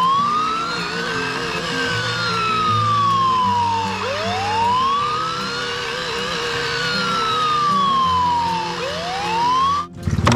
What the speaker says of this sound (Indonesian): Wow, mobil pemadam kebakaran.